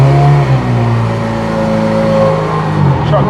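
A Ford GT40 race car's engine rumbles loudly and close at the Thruxton circuit, holding a steady growl with shifting tones as it idles and revs nearby.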